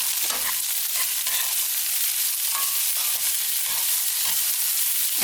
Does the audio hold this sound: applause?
no